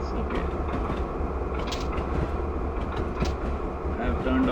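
Norfolk Southern freight train, locomotive NS 5244 heading to Gold Hill Quarry in Train Simulator, rumbling steadily with a low continuous drone and faint rail clatter, constant and moderately near throughout.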